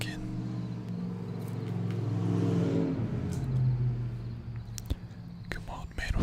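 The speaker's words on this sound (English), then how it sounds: "Come on, man with a car or a truck. Don't be so loud." Car or truck passing loudly along a residential street outside, a low engine rumble that swells over a few seconds then fades, with a few soft close taps and rustles near the end.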